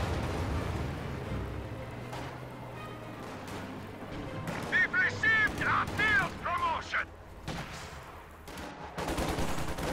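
Gunfire from an MG42 machine gun in a WWII strategy video game, heard as dense bursts mixed with battle noise and explosions, with a narrator talking over much of it.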